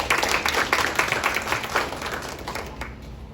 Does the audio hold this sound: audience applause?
yes